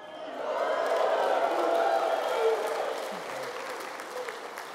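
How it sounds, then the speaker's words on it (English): An audience gives a 102-year-old Pearl Harbor survivor and Navy veteran a round of applause, a broad wash of clapping that swells, holds for a couple of seconds and then tapers, with a voice talking over it. "Let's give him another round of applause."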